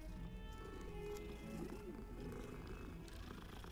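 A cat purrs steadily in Hogwarts Legacy, a soft continuous rumble that stays close and even throughout, with faint game ambience and no talk over it.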